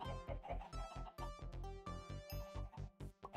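Chickens in Minecraft Sky Factory 3 cluck in a quick, steady run of short, bright, close pecking notes that overlap one another.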